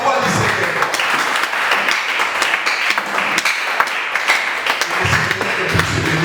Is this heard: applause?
yes